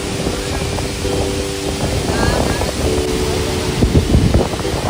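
Rushing water at a waterfall with a powerful flow, a loud, dense, continuous roar mixed with wind buffeting the microphone, close and unbroken, with faint voices underneath.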